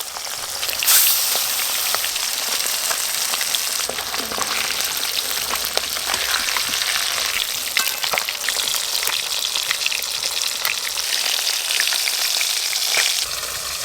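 Fat from a large 3 kg fish frying in oil in a pan, producing a loud, continuous crackling sizzle with dense popping throughout and no talk.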